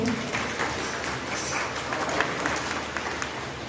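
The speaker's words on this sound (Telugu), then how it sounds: "అందరూ చప్పట్లు కొడతాం." A church congregation at an Easter sunrise worship service claps steadily to welcome a guest, a continuous, even wash of applause filling the room.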